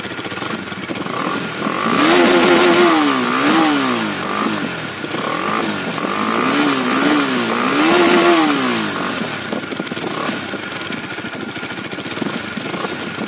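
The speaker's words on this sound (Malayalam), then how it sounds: "കുറച്ചും കൂടി ഓപ്പൺ ആയിട്ട് കുറച്ചും കൂടി നല്ല സൗണ്ട് ലഭിക്കുന്ന ഒരു എക്സോസ്റ്റ് തന്നെയാണ് ഡിസൈൻ ചെയ്തിട്ടുള്ളത്" Husqvarna Vitpilen 250 motorcycle exhaust, loud and close, idling steadily and then rising and falling through two pairs of throttle revs before settling back to idle.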